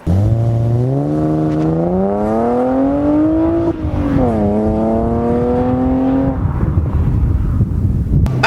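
A BMW 128i engine revs up steadily through the gears while driving, the tone climbing, dipping at a shift, then climbing again over constant road and wind noise.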